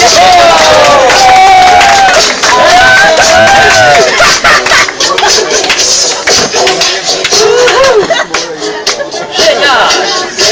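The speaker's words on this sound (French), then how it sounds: "Mesdames et messieurs, on l'applaudit bien fort." A live audience claps and cheers loudly for a dancer performing as Michael Jackson, dense applause filling the space while an announcer speaks over it on a microphone.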